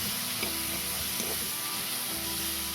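Chili powder and cumin powder hit hot oil in a pan for a fish curry, giving a steady, close sizzle with soft stirring scrapes throughout and no talking.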